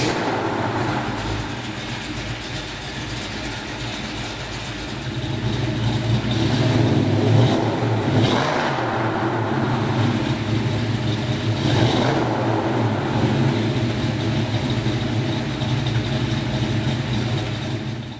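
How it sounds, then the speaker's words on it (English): A 1933 Ford Coupe hot rod V8 with true dual exhaust and Flowmaster mufflers idles with a deep, rumbling burble, steady and loud, swelling slightly partway through as it runs on. "true dual exhaust system with Flowmaster mufflers for a traditional hot rod sound"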